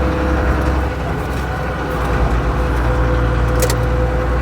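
A big, heavy Ford Cargo 0811 truck, a model built in many countries including Australia, driving steadily with a loud, continuous low engine and road rumble and no voices.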